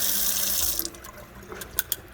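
Tap water rushing through the opening of a plastic tube from a chinchilla cage during cleaning, a loud steady splashing stream up close that cuts off, followed by a few sharp drips and clacks.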